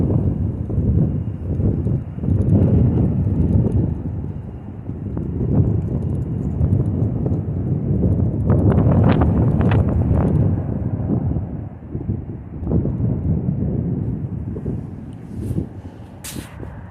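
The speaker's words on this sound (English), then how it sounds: "It's so windy, it's blowing the dust and the dirt all over the tracks." Strong wind gusts sweep along railroad tracks, blowing dust and dirt, with a steady low rumble and buffeting that swells and fades, plus occasional clattering bursts.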